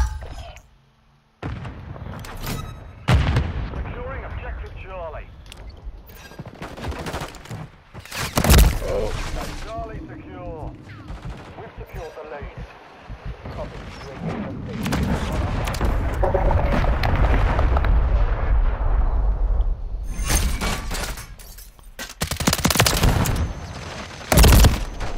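Dense gunfire and grenade explosions in a multiplayer shooter video game, with rapid bursts, loud booms and crackling shots close up, continuing under excited voices calling out to teammates.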